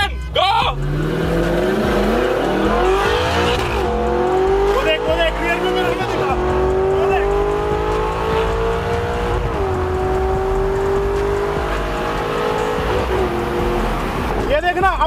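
A BMW M2 drifts with its engine revving hard and rising, tires squealing over a continuous loud roar for about fifteen seconds, with a few sharp shifts in pitch as the car changes speed.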